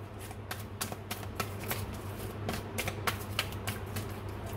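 Tarot cards are shuffled and drawn by hand in a quiet room, giving a series of crisp, close riffling snaps and flicks in an uneven rhythm, with no voice over them.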